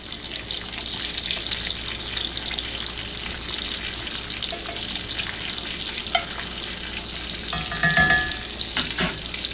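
Campfire stew of beans, potatoes, ground beef and bacon cooking in a pot, giving a continuous close bubbling sizzle with light clinks and scrapes toward the end.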